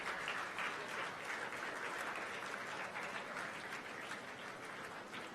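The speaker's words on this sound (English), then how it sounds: "Can we have the applause, please?" Steady applause from a large audience at a convocation ceremony, a dense, even wash of clapping held at a constant level throughout with no one speaking.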